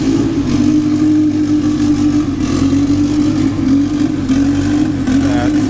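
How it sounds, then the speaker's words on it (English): A car engine with an open downpipe and turbo runs loud and close, a deep sustained drone with slight surges as it revs, steady throughout without voices. "So this is a open downpipe startup."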